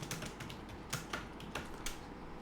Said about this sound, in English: I will be able to type something in the text frame